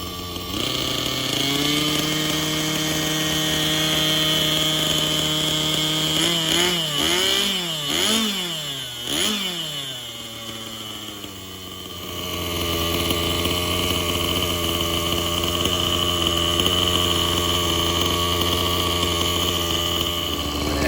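A SAB Goblin Raw 580 nitro RC helicopter engine buzzes steadily at a high idle, briefly revving up and down in a few quick blips before settling back to a constant drone.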